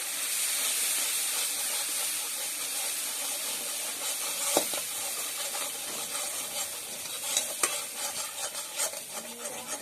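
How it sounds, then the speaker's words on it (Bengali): Ground spices frying in oil in a pan give off a dense, steady sizzle and hiss, with a couple of sharp scrapes from stirring and some small crackles toward the end. "যতক্ষণ না পর্যন্ত আমার এই মশলা কষানো তেল ছাড়বে, আমি মশলাটাকে ভাজতে থাকবো।"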